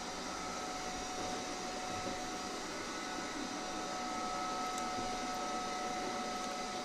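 A Eureka Forbes robot vacuum-mop with UV sanitization works along corners, edges and around furniture, giving a steady, even motor whir with a faint high tone, running continuously at moderate distance.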